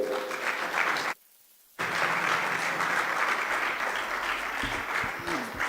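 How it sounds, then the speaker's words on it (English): Steady applause from a large crowd at the UNESCO World Press Freedom Prize ceremony for Maria Ressa, broken by a brief second of silence before clapping resumes just as loudly. "the 2021 winner, Ms. Maria Ressa, with a big round of applause in presential and virtually."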